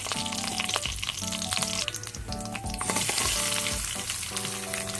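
Garlic and asafoetida fry in hot oil in a pan, giving a steady close sizzle with occasional stirring clatter and no talking.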